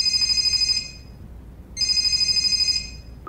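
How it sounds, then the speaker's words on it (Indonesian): A mobile phone rings in two bursts of a bright electronic ringtone, separated by about a second of quiet room tone, close and clear with no voices. "Tiba-tiba ponsel Sanyong berdering."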